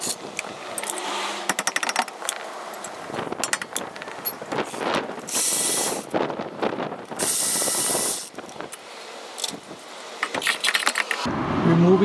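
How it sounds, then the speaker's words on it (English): Brake caliper bolts being removed from a 1998 Toyota Avalon: close metallic clicks and ratcheting, with bursts of a power tool whirring and clattering tool handling throughout, no talking. "Removing the caliper, there's 2 bolts, one here and one here."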